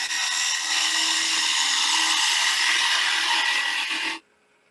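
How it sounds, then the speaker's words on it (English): A wood lathe gouge hollows out a turned wooden wig stand, a loud steady scraping and hissing cut held for about four seconds before stopping abruptly, close up with no voices. "we're going to start hollowing out this. Again, just like you would do on a bowl."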